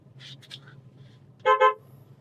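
A car horn on a vehicle being driven in the city gives two quick close beeps in a row, loud and bright against a low steady engine hum, with a few faint softer sounds beforehand.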